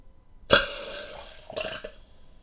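A German HeimSyphon soda syphon dispenses warm water into a glass: a sudden loud hissing spurt that trails off, followed by a second shorter fizzing burst.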